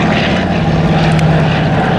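BBMF Douglas Dakota ZA947 propeller aircraft flying past at RAF Cosford, a loud steady droning piston-prop hum filling the short moment, no voices.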